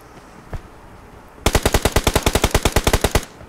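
Automatic gunfire in the mobile game BGMI: a single shot, then a loud rapid burst of about twenty evenly spaced rounds lasting nearly two seconds, with no talking.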